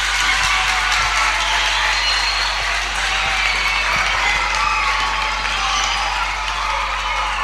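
Steady applause from an audience at a church children's gathering, dense clapping at an even level throughout, with a low constant hum underneath.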